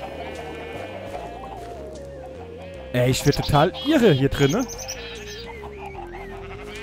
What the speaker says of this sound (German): Warum sind denn da schon wieder Schafe draußen?